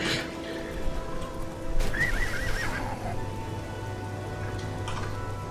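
Horse neighing in the video game Oblivion, a single whinny rising out of a steady outdoor ambience with a soft patter like rain, moderately loud and with no talking.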